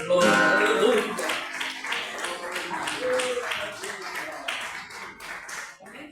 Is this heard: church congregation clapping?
yes